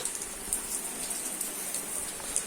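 Rain falling steadily, a constant hiss with faint scattered drop taps, fairly quiet and without any voices.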